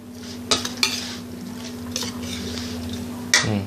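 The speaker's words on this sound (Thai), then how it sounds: "คลุกเข้าให้เข้ากัน คลุกเข้าให้เข้ากันครับ" Larb ingredients being tossed and mixed together by hand, soft wet squishing with a few sharp clicks and clatters against a bowl, over a steady low background hum.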